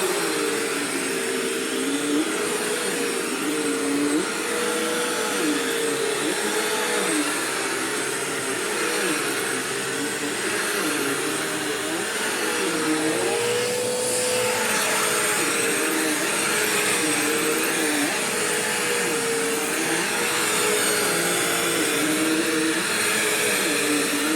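A Bissell CleanView upright vacuum cleaner runs steadily on a floor, a loud, continuous motor whine with shifting pitch as it is pushed back and forth, heard alone with no talk.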